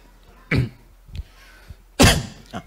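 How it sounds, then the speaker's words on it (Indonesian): Two sharp coughs, a short one and then a louder, harsher one, separated by a pause, with a faint smaller cough trailing after. "Nah, itu batuk."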